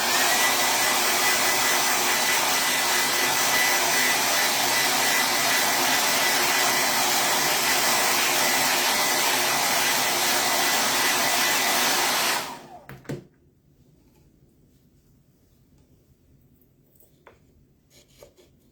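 Hair dryer drying a Chalk Couture craft project with a loud, steady close-up roar for about twelve seconds before switching off abruptly, followed by faint quiet handling sounds.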